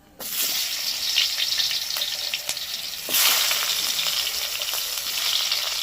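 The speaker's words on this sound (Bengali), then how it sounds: "কচুগুলোকেও ভেজে নেব" Pieces of taro drop into hot oil and fry with a loud, steady sizzle that swells again partway through as more pieces are added, close up with no talking.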